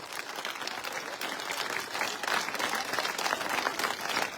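An audience at an outdoor political campaign rally claps in sustained applause, a dense wash of many hands that swells slightly and continues steadily, heard from a moderate distance.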